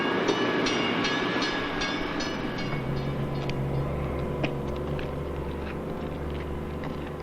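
A train rolls along standard gauge rails in South Australia, giving a steady close rumble with rhythmic wheel clicks and high metallic squeals from the wheels, and no voices over it.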